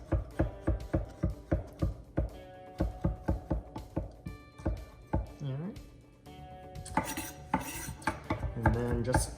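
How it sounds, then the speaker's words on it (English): A knife chops pickles on a cutting board in a steady run of sharp knocks, then slower slices, with someone talking over the cutting. "All we have to do is chop up our pickles here. And I'm just gonna give them a slice."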